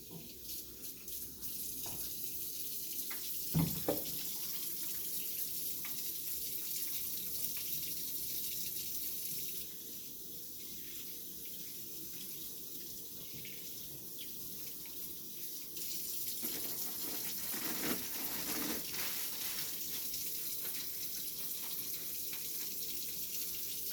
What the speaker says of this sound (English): Now I'm going to wash my hands.